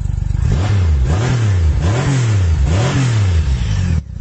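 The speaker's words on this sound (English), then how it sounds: "to start her up, well, this is what it sounds like" Loud, close Triumph Rocket 3 Roadster motorcycle engine with standard exhaust cans revving repeatedly, the pitch rising and falling in rhythmic throttle blips before dropping back to a rumbling idle.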